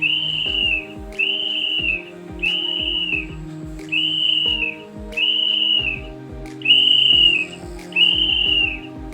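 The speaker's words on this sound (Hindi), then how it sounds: "Whistle." A whistle is blown in a steady series of about seven short, shrill blasts, each clear and evenly spaced, over light background music.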